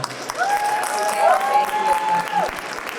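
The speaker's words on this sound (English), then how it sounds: "big round of applause for that" Applause from a convention crowd at a stand-up comedy set, a steady clapping wash lasting the whole moment with a sustained whistle-like tone running through the middle.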